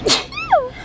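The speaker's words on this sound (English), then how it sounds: "Bless you." A single sharp sneeze, close and loud, followed by a short voiced tail.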